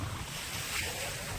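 Sea at Kanyakumari on the Bay of Bengal, a brief faint wash of waves mixed with gusting wind buffeting the microphone.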